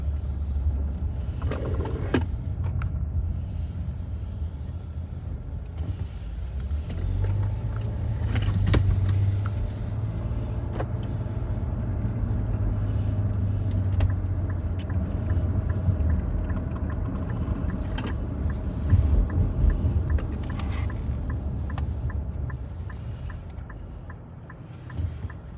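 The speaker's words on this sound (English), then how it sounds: "Look at all these cars up here already." Cars move through busy road traffic, heard as a steady low rumble of engines and tires from inside a vehicle, with occasional passing swells and small clicks, and no talking.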